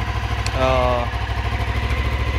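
A 2007 Honda CBF 500 motorcycle idles steadily while warming up, a low rhythmic engine throb running throughout, with a brief tonal whine and voices mixed in partway.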